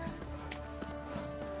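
Horse hooves clip-clopping at a walk in The Witcher 3 video game, a faint, even rhythm of steps over quiet game ambience.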